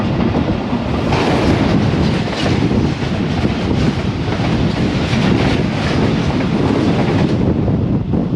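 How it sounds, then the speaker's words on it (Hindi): Musa Bagh Express passenger train running between Multan and Lahore passes close by near the Chichawatni forest, a loud continuous rumble with rhythmic wheel clatter and rushing wind noise, no talk. "अब मूसा बाग एक्सप्रेस जो कि मुल्तान और लाहौर के दरमियान चलती है। पास हुई है चीचा वतनी के जंगलात से।"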